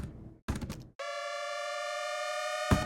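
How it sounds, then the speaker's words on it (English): A basic synth pitch rise in an electronic build-up: a sustained, bright harmonic tone sweeping steadily upward, with short rhythmic bursts before it and a loud hit near the end. "Really basic pitch rise."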